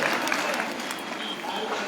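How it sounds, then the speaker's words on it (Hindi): A crowd at a public rally in Nagod, Satna, breaks into loud, continuous applause for a speaker, a thick wash of clapping with voices mixed in. "जोरदार तालियां भैया जी को बोला"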